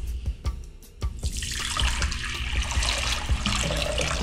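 Water pours and splashes steadily off soaked potato pieces being strained in a kitchen, a continuous rushing flow that follows a few brief clatters at the start.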